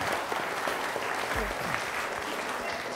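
Audience at a college politics quiz at Ramjas College breaking into a steady burst of clapping, dense and sustained for a few seconds.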